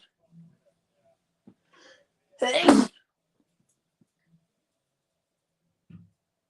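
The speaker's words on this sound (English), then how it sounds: "hold on, I'm about to sneeze" During a live watchalong of AC Milan versus Inter Milan, a single loud sneeze bursts out of near silence, with a few faint breaths and small clicks around it.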